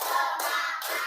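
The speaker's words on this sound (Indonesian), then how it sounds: "Tepuk tiga." A group of children clap their hands together in quick bursts, a few close, sharp claps in a loose rhythm, moderately loud with no talking over them.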